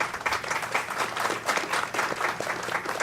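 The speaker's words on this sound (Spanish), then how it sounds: "a la doctora Helen Faber, a quien pido un fuerte aplauso, por favor." Steady, dense applause from a crowd at a televised event in Santo Domingo, Dominican Republic, many hands clapping continuously at an even level with no voices standing out.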